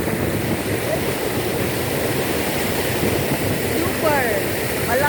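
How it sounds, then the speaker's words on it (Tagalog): A strong, swelling river current rushes steadily and loudly as a broad wash of water noise near the stream at Lettac Norte, Santol, La Union, with a few faint high tones near the end. "Lumalakas ang agos. Baka madisgrasya tayo dito."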